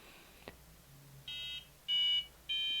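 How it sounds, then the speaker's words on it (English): An mBot educational robot gives three evenly spaced, clear electronic beeps after a firmware update, preceded by a faint click in an otherwise quiet room. "you may have heard him beep 3 times, and the lights turn white."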